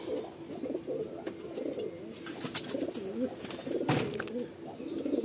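Chatiyal pigeons coo in a loft, with soft repeated low coos overlapping steadily from several birds nearby and occasional brief sharp clicks and rustles.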